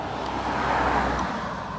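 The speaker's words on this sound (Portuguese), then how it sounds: "Tem muito carro aqui." Street traffic, with cars rolling past as a continuous moderate road rumble and a swelling pass in the middle, with no voices.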